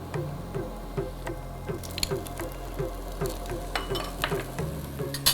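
Red and yellow bell peppers dropping into a hot pan while cooking, giving a steady close sizzle with repeated scraping stir strokes at a regular rhythm, over a low background hum, with no talk.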